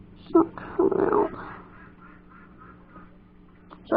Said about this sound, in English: Sorry about that, that was my ducks.